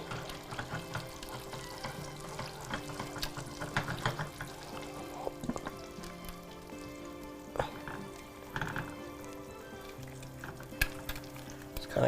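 An egg frying in plenty of butter in a hot skillet, a soft, steady sizzle with light crackles and a few scraping nudges, close but fairly quiet, with no speech.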